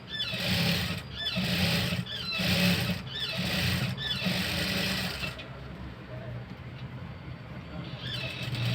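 A sewing machine stitches a patchwork blouse in rhythmic bursts of rapid whirring, stopping after about five seconds, with a quieter pause and a brief restart.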